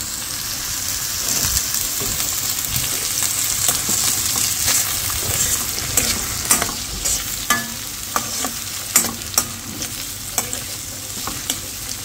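Oil sizzles and fries in a pan with a steady crackling hiss, close and fairly loud, broken by a series of sharp pops and clinks of stirring that grow more frequent toward the end.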